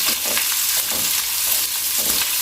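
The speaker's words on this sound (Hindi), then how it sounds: "इनको भी आपने सिर्फ 25 से 30 सेकंड के लिए फ्राई करना है" Vegetables stir-frying over a high flame for a Chinese-style chicken chilli, a loud, dense, continuous sizzle with rhythmic tossing and scraping throughout.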